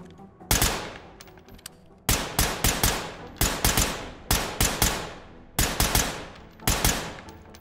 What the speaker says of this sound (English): I'm gonna see how this thing sounds with the suppressor on.